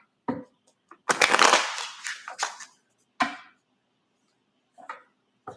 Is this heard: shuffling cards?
yes